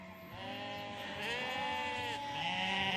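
Sheep bleat repeatedly as they are driven in for shearing, with several overlapping, wavering calls carrying steadily over a low rumble of outdoor background noise.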